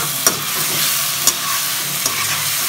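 Potatoes are stirred in a frying pan with green onion, a loud steady sizzle broken by three sharp scraping knocks of the spoon spaced about a second apart.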